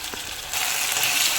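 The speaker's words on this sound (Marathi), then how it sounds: "आता आपण घालू अद्रक लसूणची पेस्ट." Ginger garlic paste hitting hot oil with fried onion in a pan for chicken biryani, a sudden loud sizzle that bursts up after a brief quieter moment and keeps hissing steadily.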